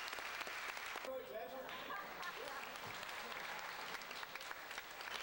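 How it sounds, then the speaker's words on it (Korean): Students clap for a candidate's speech at a political debate, steady applause filling the room throughout, faint and somewhat distant, with indistinct voices mixed in. "학생들은 각자 자신이 지지하는 후보의 연설에 박수를 보내고"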